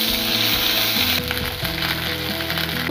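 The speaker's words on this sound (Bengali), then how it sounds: "আদা বাটা জিরে বাটাটা দিয়ে দিচ্ছি।" Ginger and cumin paste hits hot oil with a bay leaf and dried red chilli, giving a loud, continuous sizzle and crackle, up close with no talking.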